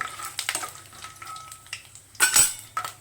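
Peanuts and dried red chilies frying in oil in a pan for coconut chutney, a soft steady sizzle with light stirring and a brief clatter of utensil against the pan.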